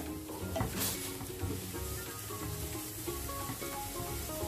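Fenugreek leaves sauté in a hot oiled pan for meethi chapati dough, hissing with a steady, close sizzle. A spoon scrapes and stirs through them, and no one speaks.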